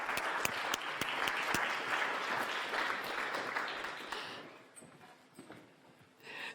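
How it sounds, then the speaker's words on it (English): Audience applause at a panel discussion on transatlantic relations: a crowd of moderate size claps with distinct sharp hand claps near the start, then fades to scattered clapping and quiet room sound. "A round of applause, please."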